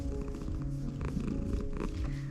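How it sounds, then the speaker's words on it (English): A cat purrs close up, a soft rhythmic rumbling pulse continuing steadily throughout with no talking. "you hear him purring?"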